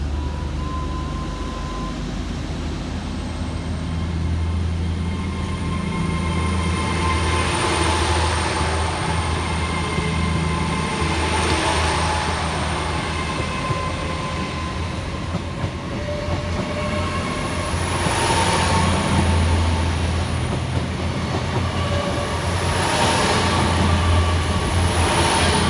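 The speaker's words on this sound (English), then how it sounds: "Next up to depart will be 800-108, working the 1705 LNER Azuma service from Aberdeen through to London King's Cross" An LNER Azuma Class 800 train pulls out of Inverkeithing station, its loud, steady engine drone and rumble building over the run alongside a high whine, with faint rail squeals and clatter.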